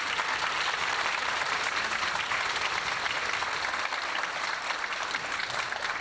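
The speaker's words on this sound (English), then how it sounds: "I would love to give all three of them a round of applause" Audience applause at a Herricks High School orchestra concert: a dense, steady wash of many hands clapping, loud and continuous from start to finish with no pauses.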